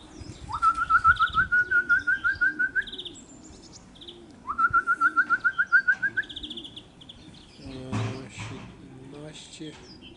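Racing pigeons at their home loft after a 70 km training flight, with two bursts of rapid, rhythmic high chirping and fluttering, followed by softer rustling and knocking sounds nearby.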